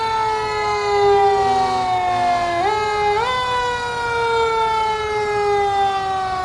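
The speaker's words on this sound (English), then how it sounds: "Fire trucks and the sirens," A loud, steady wailing fire truck siren with strong harmonics holds its pitch, dips twice briefly, then continues unbroken and close by, during a Fourth of July parade.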